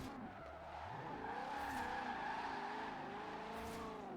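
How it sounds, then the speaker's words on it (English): A car drifts in Forza Horizon 4, its tires letting out a sustained, wavering squeal under a droning engine for several seconds, moderately close, with no talking. "She drifts, if you ask it nicely."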